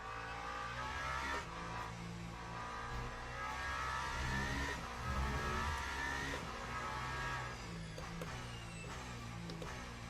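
A hypercar engine in the racing game Le Mans Ultimate at Spa revs continuously and loudly through rising and falling pitch sweeps, sounding steady and close, with no voices over it.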